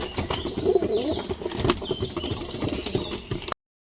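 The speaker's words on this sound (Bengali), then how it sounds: "এখন সব কবুতরগুলো মিশে গেছে খুব সুন্দরভাবে খাচ্ছে" A flock of domestic pigeons feeding together flaps wings in repeated soft bursts, mixed with low coos and occasional chirps, close by and fairly steady before stopping abruptly.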